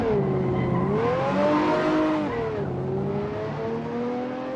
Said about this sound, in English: Mig is driving the 2090 BMW Z4 with 330 horsepower